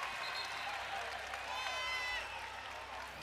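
A volleyball crowd at a Hawaii vs Long Beach State match cheers and applauds from its feet, a continuous distant roar with a commentator talking over it.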